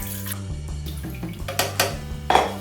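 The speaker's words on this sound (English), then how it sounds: "First I'm going to put the coconut water." Coconut water pours into a container for a watermelon coconut slushie, a run of splashing, clinking and dripping close by against a low steady hum, with a few brighter splashes toward the end.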